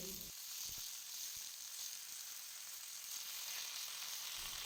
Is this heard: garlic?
yes